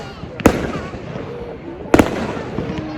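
Fireworks bursting on New Year's Eve in London, two sharp loud bangs about a second and a half apart over a crackling, smoky outdoor background with faint voices.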